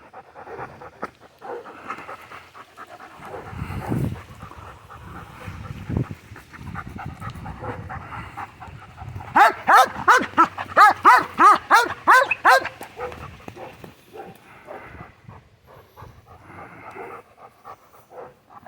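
A working dog pants heavily and close by, then breaks into a run of loud, rhythmic barks before settling back into quieter breathing.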